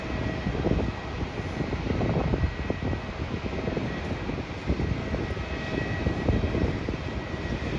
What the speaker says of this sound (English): The flight to Perth looks like it's taking off soon